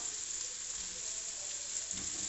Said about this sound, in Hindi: टमाटर 1 मिनट फ्राई करने के बाद साथ ही हम इसमें कबाब डाल देंगे